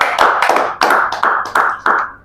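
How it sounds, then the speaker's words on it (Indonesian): A small audience clapping at a lively Indonesian talk-show taping: about half a dozen loud, separate bursts of claps in a quick, uneven rhythm, close up and with no talking over them. "kita tepuk tangan dulu."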